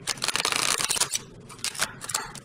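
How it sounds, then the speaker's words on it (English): Deck of oracle cards being shuffled by hand, a quick run of crisp riffling and flapping bursts with short pauses, close and fairly quiet. "I'm going to go ahead and shuffle and choose one card from this deck."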